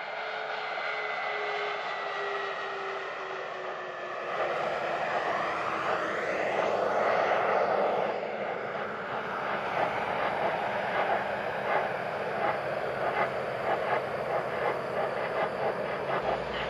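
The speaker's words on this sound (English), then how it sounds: "the Space Shuttle Endeavour touching down at Kennedy Space Center on time" Space Shuttle Endeavour on mission STS-134 touching down on runway 15 at Kennedy Space Center Shuttle Landing Facility, a distant rushing roar that swells midway and then rumbles on steadily as it rolls out.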